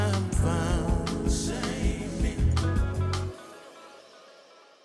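A recorded song plays loudly and full-bodied with a strong bass line, then stops abruptly after about three seconds, leaving a quiet, fading tail.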